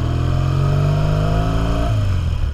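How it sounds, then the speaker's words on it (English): Vintage Triumph motorcycle with a 180-degree firing order revs loudly up close, a rising throbbing engine note that holds and then drops off near the end, with no voices. "that almost like Harley sound, that putt-putt sound that's super unique"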